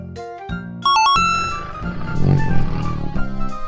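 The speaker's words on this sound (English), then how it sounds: "Tiger," A tiger roars as a deep, rough growl swelling for about a second, following a brief bright electronic chime and short musical tones.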